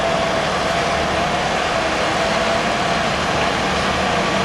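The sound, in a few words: Caterpillar earthmoving machine engines pushing material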